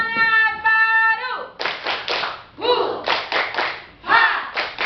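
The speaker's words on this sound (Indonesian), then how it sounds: "Tepuk semangat baru." A classroom of students performs a rhythmic clapping chant, with sung tones at the start followed by bursts of group claps in a patterned beat, mixed with voices calling out.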